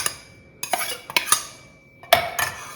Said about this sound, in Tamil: இதை நல்லா அப்படியே மிக்ஸ் பண்ணிக்கலாம்